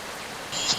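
Steady rain falling, a soft continuous hiss that grows slightly louder and brighter partway through, with no voices.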